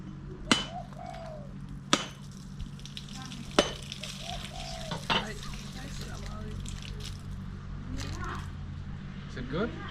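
Fresh coconut roasting in a pan for Thai Miang Kham, a soft continuous sizzle broken by a few sharp knocks and scrapes of a utensil, with people chatting nearby.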